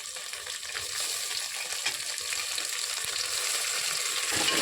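Tomatoes hitting hot oil in a frying pan give a steady, close broadband sizzle that holds for the whole stretch and swells slightly toward the end, with faint stirring clatter and no voices.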